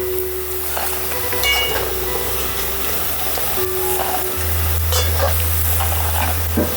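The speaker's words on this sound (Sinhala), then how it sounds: "තෙල් ටික රත් වීගෙන එද්දී මුලින්ම අපි සොසේජස් ටික බැද ගන්න ඕනේ." Sausages sizzle in hot oil in a pan, a steady close crackle and hiss with a low hum underneath and occasional light clinks. No one speaks.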